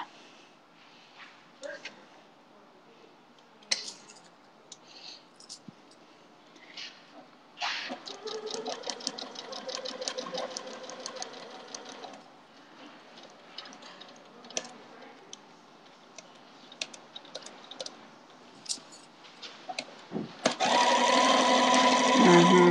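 A sewing machine with a worn needle runs in bursts of rapid mechanical stitching on a quilt block, with quieter clicks and handling noise between, growing loud near the end.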